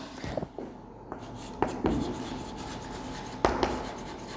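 A pen writing an accounting journal entry by hand on paper, close scratchy strokes with brief taps and pauses between words.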